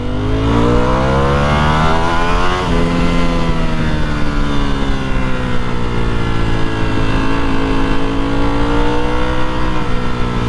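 A Ducati Panigale V4S with its stock exhaust roars loud and close, a dense engine drone that sustains throughout with gradual pitch dips and climbs as revs shift.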